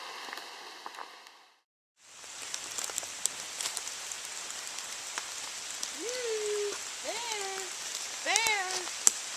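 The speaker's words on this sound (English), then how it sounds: "So now we're walking a nice heavy downpour." A heavy rain downpour falls steadily on a wooded wildlife sanctuary near a brook and cliff edge, a dense hiss with scattered drops, briefly cut off, then resuming with several bird chirps over it.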